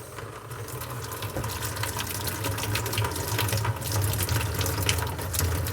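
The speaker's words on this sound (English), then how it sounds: "when you turn the water on, it all leaks out" Tap water runs steadily through a sink with a cracked, corroded waste drain tube, a continuous close splashing rush that holds at an even loudness throughout.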